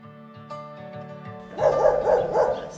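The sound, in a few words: dog barking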